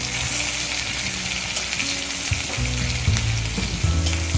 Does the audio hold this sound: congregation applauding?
no